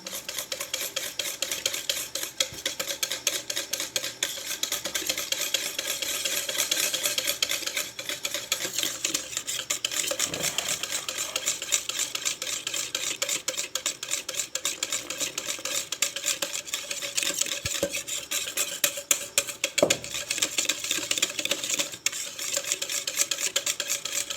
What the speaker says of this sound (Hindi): अब इसमें बेसन डालते हैं। 1 प्याली मैंने बेसन लिया है। इसको अच्छी तरह मिक्स करते हैं।